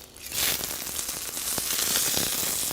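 Steak sizzling on a Brabura plancha grill, a loud, steady, close hiss and crackle of searing fat running without a break and with no voices over it.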